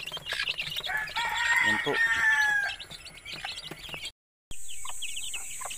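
Chickens on a farm raising newly hatched chicks: high chirping and hen clucking form a busy, steady chorus, with someone speaking briefly over it before a short gap of silence.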